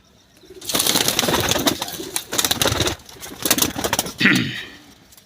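Pigeons coo and flutter close by, one held in the hand, soft throaty calls mixed with rustling and flapping in short bursts.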